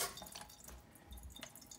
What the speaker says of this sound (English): there's very little water pressure